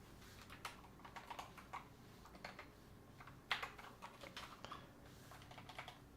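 Keys clatter on a computer keyboard in quick, uneven bursts, with one sharper clack near the middle; close and fairly quiet, no voices.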